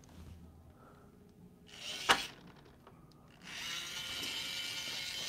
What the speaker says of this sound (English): Oh, I love automatic screwdrivers.